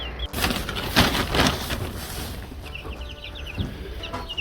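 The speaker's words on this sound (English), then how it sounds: "He just wants to check in on his chickies, huh? Check in on the Eggers." Easter Egger chicks peep and chirp in a brooding flock, a steady chatter of small high calls that comes and goes over a rustling background, fairly close to the mic.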